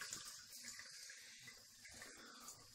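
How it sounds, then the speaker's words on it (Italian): Hot water runs from a tap for shaving, a steady faint hiss of flowing water that continues evenly and quietly throughout. "Acqua calda."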